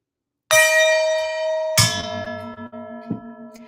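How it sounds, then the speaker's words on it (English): A gong is struck twice, each hit a loud bright clang with long shimmering ringing overtones, the second coming about a second after the first, with faint knocks as the sound decays. "Florence, we got to hit the gong."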